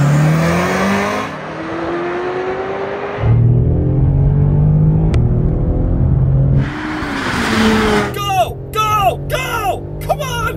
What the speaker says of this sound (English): how I drag raced my Mercedes-Benz station wagon with three-row seating and a baby seat in the back against a Ferrari F40